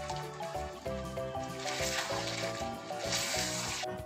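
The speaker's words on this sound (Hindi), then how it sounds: "तो अब हम इसके अंदर डालेंगे दही।" Yogurt poured into sizzling chicken karahi, a Peshawari namkeen dish, sets off two brief bursts of hissing sizzle, faint beneath prominent background music.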